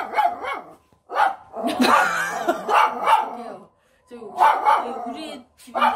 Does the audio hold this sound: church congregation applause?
no